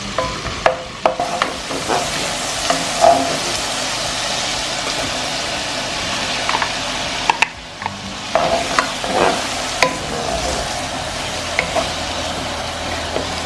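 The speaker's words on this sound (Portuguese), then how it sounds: "a calabresa e o alho. Vou deixar fritar bem." Calabresa sausage and garlic frying in a pan, giving a loud, steady sizzle with bursts of stirring and scraping, heard up close with no talking.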